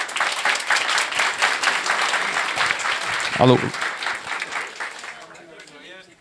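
A conference audience at BSides SP 2025 claps for the speakers of a security talk, producing a loud burst of applause that trails off as someone speaks briefly into a microphone.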